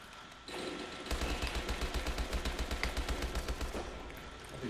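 Rapid automatic gunfire in Call of Duty Exo Zombies, heard as a quick, even string of shots lasting a few seconds over a low game background, fairly faint and with no talking.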